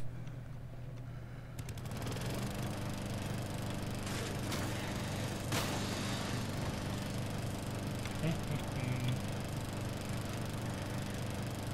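Lawn mower engine in the video game Dead Rising 2, starting up after a quiet moment and then running at a steady, loud drone with faint knocks and clatters over it.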